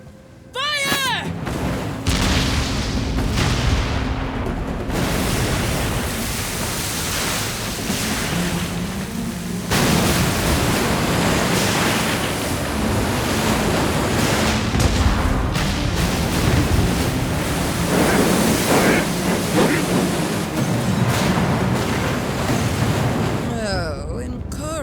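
Ship cannons firing in a naval battle from Like a Dragon: Pirate Yakuza in Hawaii, repeated heavy booms over crashing sea and battle noise, loud and dense for the whole stretch, with voices shouting at times.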